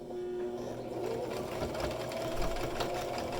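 A sewing machine zigzag-stitches a narrow quarter-inch strip on the main part of a bag holder, with a steady fast mechanical whir and rattle running close and unbroken, and no speech.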